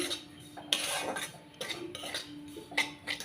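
Semolina and flour being stirred in a pan with a utensil, giving repeated light scraping and clinking strokes against the metal, close and moderately quiet, with no talk.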